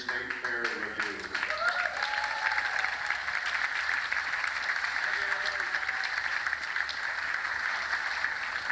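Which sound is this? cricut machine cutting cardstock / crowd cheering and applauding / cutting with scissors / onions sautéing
crowd cheering and applauding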